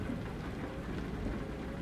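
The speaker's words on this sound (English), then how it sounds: "Bro, it's raining." Steady rain in a truck driving video game, a soft continuous hiss with low rumbling underneath, faint and uniform with no voices.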